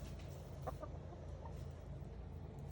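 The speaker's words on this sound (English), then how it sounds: "clip here of my chickens destroying my garden" Backyard chickens cluck softly a few times in a garden over a constant low rumble, with no talking.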